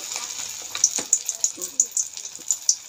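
Pakora batter drops into hot oil in a kadai, giving a run of short, sharp crackling bursts over a thin, steady sizzle, close by.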